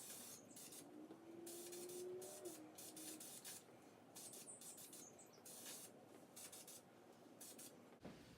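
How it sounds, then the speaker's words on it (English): Red Duplicolor acrylic enamel sprayed from an aerosol can onto the frame of a Revell Peterbilt 359 model truck: a close, steady hiss broken into several short bursts with brief gaps, running for most of the stretch. "we are going to spray it with this random can of red paint"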